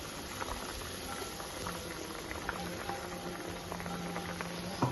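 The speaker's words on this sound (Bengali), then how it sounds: "আমার ঝোলটা ফুটে উঠেছে।" A thin fish curry simmers in a pot, a faint steady bubbling and soft popping patter heard close up and alone.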